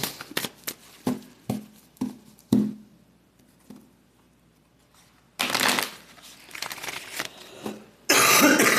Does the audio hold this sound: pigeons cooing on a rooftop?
no